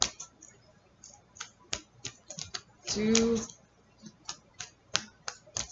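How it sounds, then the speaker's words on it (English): A tarot card deck is shuffled by hand, producing a quick, irregular series of crisp card slaps and riffles, close and fairly quiet, while a voice speaks briefly in the middle. "Taurus, three shuffles."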